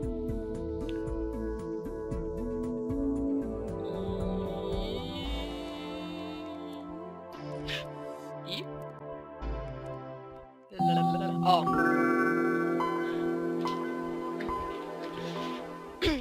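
The Windows 95 startup sound: a rich, swelling synthesized chime chord rises and sustains for several seconds, then a brighter second burst of layered tones follows, loud and close.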